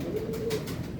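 Female Lalpari pigeon cooing once up close, a soft low throaty coo lasting about a second with no talking.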